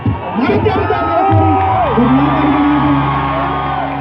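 A lively crowd at a film promotional event at Punjabi University in Patiala whoops, yells and cheers continuously, loud and close, with several voices rising above the mass.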